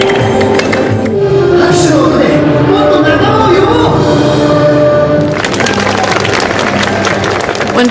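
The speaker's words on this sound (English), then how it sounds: "When visitors clap their hands, the images change." Visitors at an interactive projection exhibit clap their hands amid a busy crowd, with a dense burst of many claps growing louder toward the end over steady background hubbub and music.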